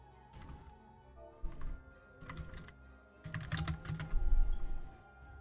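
Fingers wearing fake nails clack on a mechanical keyboard in quick bursts of typing, separated by short pauses, close and fairly loud.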